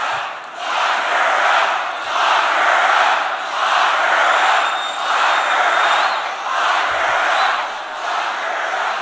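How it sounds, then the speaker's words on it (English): An angry political crowd chants a rhythmic slogan in loud, repeated surging waves, the massed voices rising and falling roughly once a second throughout with no break. "that angry mob that was cheering "Lock her up""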